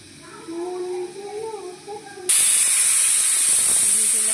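A pressure cooker whistle on a stovetop cooking a curry bursts into a loud, sustained hiss of escaping steam partway through, after a stretch of speech.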